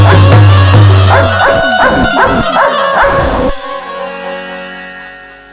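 A dog barks close and loud in a rapid run of about five yelping barks, then falls silent into a fading ring. A low steady hum sounds at the start.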